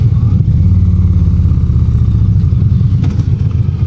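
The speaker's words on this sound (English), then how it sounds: "Indian does probably the best from the factory exhaust that I've heard." Indian Roadmaster PowerPlus Dark Horse motorcycle with factory exhaust, a loud, deep, steady engine rumble with a throbbing low-pitched pulse, heard close while riding and holding fairly even revs.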